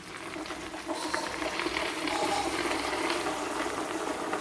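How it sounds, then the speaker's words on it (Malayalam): Water is poured into a pot of jackfruit cooking in oil, giving a continuous close rushing hiss with no voice over it. "ഇതിലേക്ക് ഞാൻ വെള്ളം ഒഴിച്ചു കൊടുക്കുകയാണ്."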